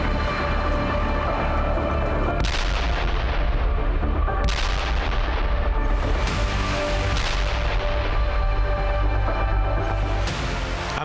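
Heavy blasts and rumbling booms from missile strikes and explosions roll continuously at close range, with sharp bursts landing every few seconds over a dense low roar, like a battle sound effect.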